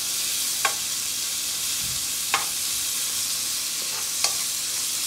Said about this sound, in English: I'm going to add in my onions as well. So I'm just going to brown these.